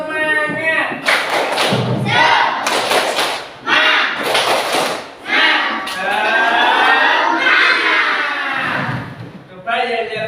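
A primary-school class does a rhythmic spirit clap together, bursts of clapping and thumping in patterned groups mixed with loud children's chanting voices.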